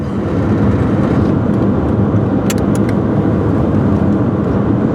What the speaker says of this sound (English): Get it into 6th gear.